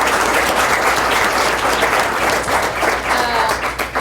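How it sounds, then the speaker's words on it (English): An audience claps for the Lick Log players at a community theatre performance, a loud sustained round of applause from a full house. "I'd like to give a round of applause for the Lick Log players"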